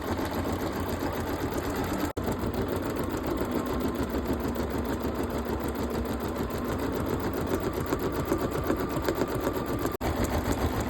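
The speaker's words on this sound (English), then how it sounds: "it's starting to stitch this out" A Bernina sewing machine with a mega hoop stitching out an embroidery design, a fast, steady mechanical whirring and clatter of the needle running continuously and close by, with two brief interruptions.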